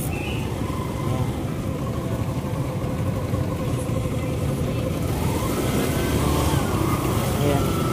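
A vehicle engine runs steadily and loudly close by after starting, a continuous low rumble filling the whole stretch with no clear revs.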